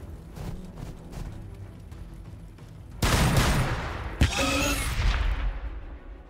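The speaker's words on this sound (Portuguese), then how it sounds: "Vamos vir aqui, vamos dar uns tiros." Gunfire rattles through Warhammer 40k Battlesector, faint scattered shots at first, then a loud sustained barrage with heavy blasts and a sharp boom partway through, fading at the close.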